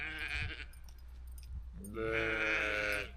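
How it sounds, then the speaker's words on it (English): Several sheep bleat as the flock comes running, a couple of short calls early on and then a loud, drawn-out chorus of overlapping bleats close by. "I can't do anything without these sheep coming running."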